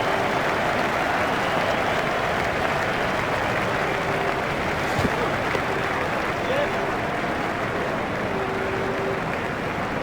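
A virtual cricket stadium crowd in EA Sports Cricket 07 applauds Andrew Flintoff's century, steady sustained clapping and crowd noise throughout, with a commentator speaking over it.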